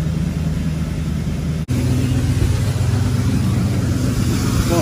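A loud, steady Duramax diesel pickup engine idles up close, a low droning rumble with a brief cutout partway through, no voices.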